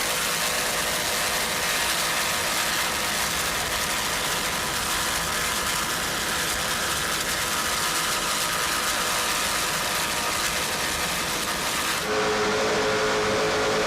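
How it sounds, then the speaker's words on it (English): Loud, steady roar of two 900-horsepower racing powerboat engines on a lake, running continuously, with a dense broadband drone that shifts slightly in tone near the end. "Just listen to those two 900 horsepower United racing engines"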